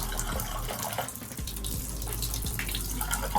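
Water runs from a shower and tub in a steady, close gush after a Delta cartridge replacement, splashing and burbling continuously with no voices.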